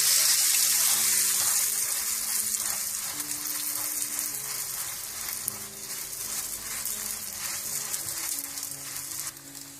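Butter-brushed radish paratha fries on a pan, giving a loud, continuous bright sizzle that starts strongest and eases slightly while staying steady and close, with no talking.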